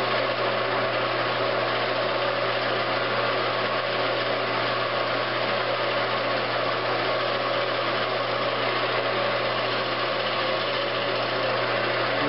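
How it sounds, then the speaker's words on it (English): A wood lathe runs steadily as a shear scraper smooths a mahogany vase, a constant close motor drone with faint scraping and no talk. "that little shear scrape really, really smoothed that mahogany up"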